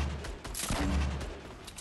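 Gunfire in a Fortnite-style battle royale game, a dense run of shots and booms crowding together over about two seconds at steady, fairly loud level, with no talk over it.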